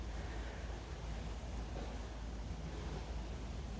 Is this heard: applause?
no